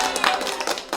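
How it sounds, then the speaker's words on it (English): A studio audience claps for an arriving guest, a dense patter of hands with a few sharper claps standing out, voices faintly mixed in underneath. "Applause, applause, applause."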